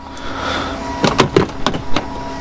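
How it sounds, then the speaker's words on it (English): Semi-truck cab door being opened, a few sharp mechanical clicks and clunks from the latch and hinge in quick succession after a quiet engine-off hum. "open the door because it's bloody hot."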